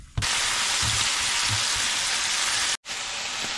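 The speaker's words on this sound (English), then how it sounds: "just cook some of this moisture off of it and get this meat browned up." Pieces of Canada goose meat sizzling steadily in hot oil in a pan, a dense continuous fry hiss with a few soft stirring bumps and a brief dropout near the end.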